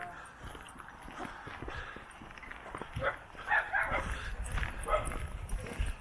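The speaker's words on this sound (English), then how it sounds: "A couple of dogs, more dogs." Several dogs bark intermittently at a campsite full of vans, some nearby and some farther off, mixed with outdoor background noise and people talking.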